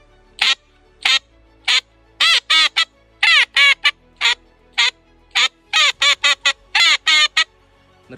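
A duck call blows a series of short, nasal quacking peeps in quick bursts and clusters, loud and close, imitating a teal with no talking.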